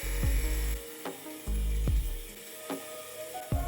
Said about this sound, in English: For this process, I begin by grinding the end to a point.